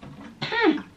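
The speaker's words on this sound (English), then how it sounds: "clear my throat" A single short, fairly loud throat clearing from a woman, a quick rough rasp after a brief moment of quiet.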